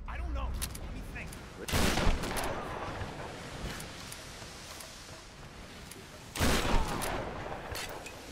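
Gunfire in the Tomb Raider video game: scattered shots and bursts over a steady noisy background, with two louder volleys standing out, the second one near the end.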